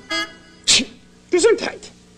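A sneeze bursts out twice in quick succession, close and loud, followed by a short voiced exclamation.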